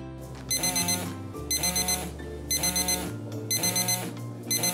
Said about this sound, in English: set the device to vibrate and sound an alarm to alert you to take your medication.